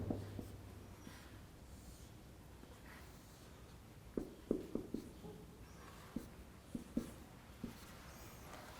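A lecturer sketches a graph on a board, quiet at first, then a run of sharp scratchy marker or chalk strokes in short bursts, faint in a room with no talk.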